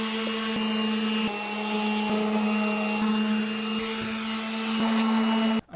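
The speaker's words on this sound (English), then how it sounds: "we still have to scuff sand everything" A power sander scuff-sands furniture before painting, its motor giving a loud, continuous droning whine with faint scraping that runs almost the whole time before stopping abruptly at the end.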